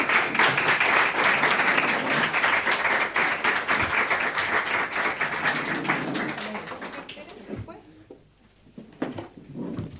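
A crowd at a panel event applauds steadily and loudly for several seconds, then the clapping thins out and fades as a voice begins speaking in Spanish.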